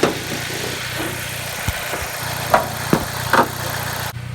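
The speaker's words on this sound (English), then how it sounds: "She's running, she got new plugs." A car engine idles steadily after fresh spark plugs were fitted, a close, even mid-pitched hum broken by a few light knocks and clicks.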